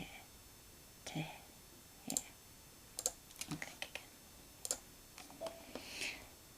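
Computer mouse clicking at a desk: sparse, sharp, quiet clicks scattered in irregular bursts, some in quick clusters, with faint low murmuring in between.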